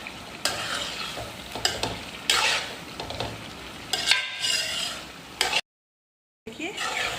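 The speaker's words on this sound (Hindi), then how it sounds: "अब हम करेंगे इसकी भुनाई तकरीबन 5 मिनट के लिए।" Chicken white karahi with whole green chillies sautéing in a pan, a steady loud sizzle with stirring scrapes throughout and a brief silent gap near the end.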